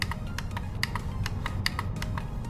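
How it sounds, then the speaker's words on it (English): Button clicks from a Logitech Lift vertical ergonomic mouse, a run of sharp, close, evenly spaced clicks repeating over a low background hum. "this has some clicking sound"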